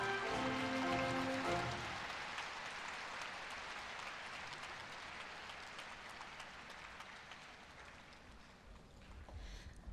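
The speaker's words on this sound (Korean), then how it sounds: "다시 한번 힘찬 박수 부탁드립니다." A large crowd applauds at a Korea University freshman entrance ceremony, dense clapping that starts strong over a brief fading musical tone, then thins gradually over several seconds into a softer patter.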